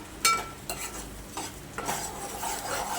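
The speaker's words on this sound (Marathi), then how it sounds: "आपल्याला वाटण हे छान तेलासोबत परतून घ्यायचं फक्त दोन मिनटं परतायचं" Ground spice paste sautés in oil in a pan, a soft steady sizzle broken by repeated scrapes and clinks of a spoon stirring, close and fairly quiet.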